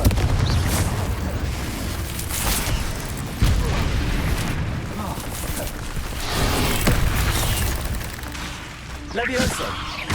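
Confringo fire-spell explosions in Hogwarts Legacy, loud and continuous booms and bursts layered with other spell and combat sounds throughout.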